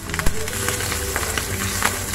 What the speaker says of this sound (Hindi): इसको थोड़ा और आप पैन में फ्राई करेंगे